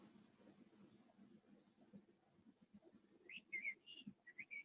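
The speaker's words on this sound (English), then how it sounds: "I don't know if you hear the birds sing outside." Faint birdsong outside, a few short whistled chirps arriving late, over a soft low murmur in a quiet room.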